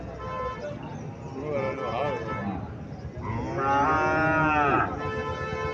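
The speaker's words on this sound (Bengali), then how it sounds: "এখানে আরো একটা দেশি গাভী দেখা যাচ্ছে" A local dairy cow at a rural cattle market in Comilla, Bangladesh lowing in long drawn moos, near and fairly loud, with market voices and chatter around it.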